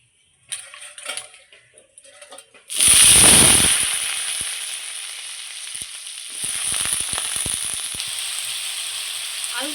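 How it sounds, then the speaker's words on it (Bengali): Potatoes drop into hot oil in a pan and burst into loud, close frying, a bright hiss that settles into a steady sizzle with some clinks, after a few soft handling sounds. "আর একটু তেল দিয়ে দিচ্ছি, আলুগুলো ভেজে নিব।"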